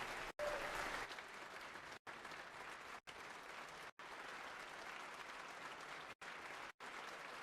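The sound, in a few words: applause in Georgia House chamber for Gerald and team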